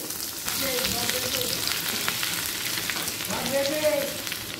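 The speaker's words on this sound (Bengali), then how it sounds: "কড়াইতে আরও একটু 1 টেবিল চামচ মতো তেল দিয়ে দিলাম। দিয়ে দিচ্ছি রসুন কুচি, আদা কুচি" Chopped garlic and ginger fry in hot oil in a wok while chilli paneer is being cooked, giving a loud, continuous sizzle close up with light stirring, and no one talks.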